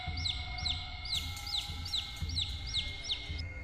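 A baby chick near a food cart cheeps in rapid, regular high peeps, about ten in under four seconds, over a low background hum.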